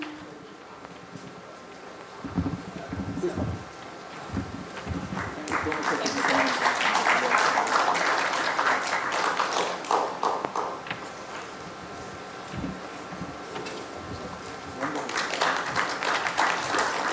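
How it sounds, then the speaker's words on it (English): Audience applause rises in a hall as dignitaries are felicitated at a government digital transformation event, with broadband clapping swelling from about six seconds, easing, then surging again near the end, mixed with scattered footsteps and some voices. "Can we have a big round of applause for all our dignitaries when they are getting felicitated?"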